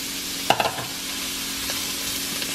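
Sausage fries in a pan with butter, giving a continuous close sizzle with a few sharp utensil clatters near the start.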